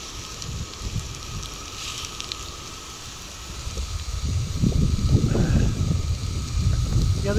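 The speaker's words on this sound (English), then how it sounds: "they said the wind would die down a little bit with sunset. I'm not seeing it." Wind buffets a campsite cooking area at sunset as a low, gusty rumble that grows stronger and louder in the second half.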